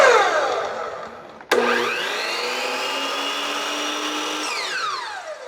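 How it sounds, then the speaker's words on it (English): A 12-inch sliding miter saw running off a portable battery power station spins up abruptly, then holds a loud steady whine for several seconds before winding down, close and alone. "let's see if I can turn my 12-inch sliding miter saw into a battery operated saw"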